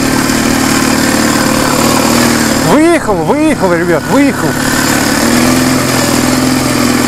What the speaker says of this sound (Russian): Мотоцикл начал ускоряться вот